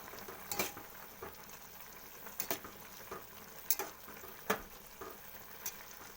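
Turmeric is stirred in hot mustard oil, a faint sizzle under a handful of sharp utensil taps and scrapes against the pan, spaced irregularly and close.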